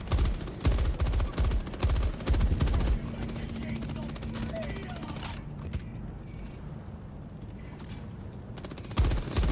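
Rapid automatic gunfire rattles in dense, loud bursts at a harvester in Helldivers 2 during a battle against the Illuminate, easing into a steadier background din of combat before sharp shots return at the end.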